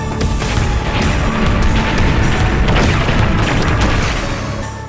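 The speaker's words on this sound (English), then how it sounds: "Just swapping back and forth between these two rocket launchers is insane." Rocket launcher blasts in the shooter game Dread Templar land as loud, dense booming explosions that roll into one another for several seconds, close and heavy, with no voice over them.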